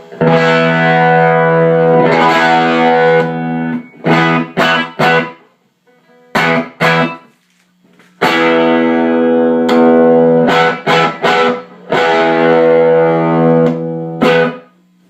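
Heavily distorted electric guitar with high gain through a boosted small tube combo amp, chunky chords and stabs separated by short pauses, ringing out with sustain.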